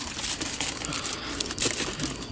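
A cardboard box being cut at the lid seam for a homemade oven, giving a steady, close crinkling and scraping rasp with a few sharper tearing bursts throughout, no voices.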